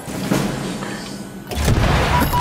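A heavy explosion in the video game Halo Infinite, a deep boom that swells and rumbles through the middle of a busy, loud game soundscape.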